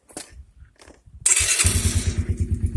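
A tiny dirt bike with no clutch is started after several quiet cranking pulses, then the small engine catches and runs loudly up close with a rapid, buzzy, throbbing idle.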